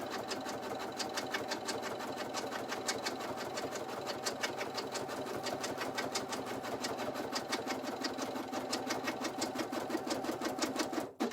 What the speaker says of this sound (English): now I'm gonna tack down this top piece of fabric